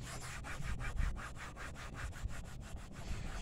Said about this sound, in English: Just sand it off like, this ain't nothing but a scarring pad I'm using here.